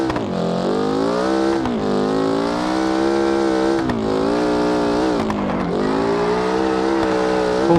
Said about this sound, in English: This is really hard to drift this car.